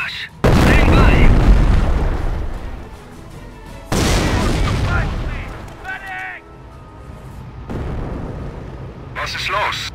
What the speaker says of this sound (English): Fire mission. HE concentration barrage.